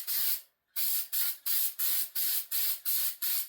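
Adhesive being sprayed onto the headliner of a '91 Dodge Grand Caravan: a series of about nine short, close hissing bursts in steady succession, with one longer gap near the start.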